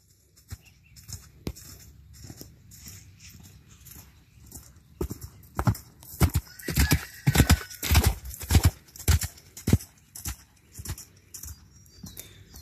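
A horse cantering, its hooves clip-clopping in a steady rhythm that grows louder and closer partway through, with an occasional faint whinny and no talk.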